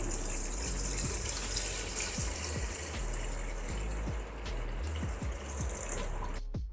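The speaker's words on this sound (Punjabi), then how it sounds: "ਉਸ ਤੋਂ ਬਾਅਦ ਆਪਾਂ ਪਾਣੀ ਪਾਵਾਂਗੇ" Water pours steadily from a tap into a pressure cooker holding colocasia (taro) pieces for boiling. A continuous gushing fill runs unbroken for several seconds, close and fairly loud, with faint clinks of the vessel along the way.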